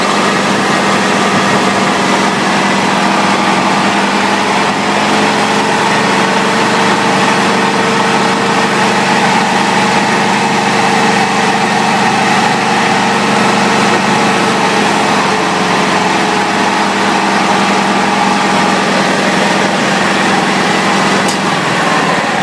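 Tricon 4000 engine with its throttle limited to 1400 RPM runs steadily at a constant, loud, close drone for over twenty seconds with no change in pitch and no talking.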